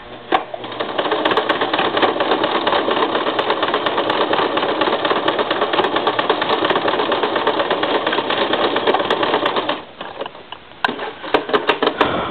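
A sewing machine on a straight stitch runs steadily through canvas for about ten seconds, a close, loud, even mechanical whir, then stops and gives a few short bursts.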